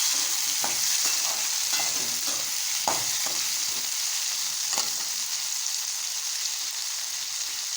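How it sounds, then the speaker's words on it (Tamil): Tomatoes sautéing in a clay pot for bitter gourd curry: a constant close sizzle of frying, broken by repeated scraping stirs of a spoon against the pot. "நம்ம கட் பண்ணி வச்சுருக்கிற தக்காளியை இதில் சேர்த்துக்கணும் சேர்த்து இதையும் நல்லா வதக்கணும்"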